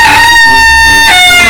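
A chicken lets out a loud, close, drawn-out cackling call with a second rising burst near the end, filling the short moment alone.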